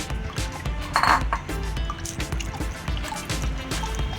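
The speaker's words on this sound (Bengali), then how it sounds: "আমি ছেঁকে একটা তেঁতুলের একটা লিকুইড তৈরি করছি" Tamarind pulp liquid strained through a kitchen sieve, with wet dripping and trickling into a vessel below and occasional soft scrapes and clinks of utensils, fairly close and steady with no talking.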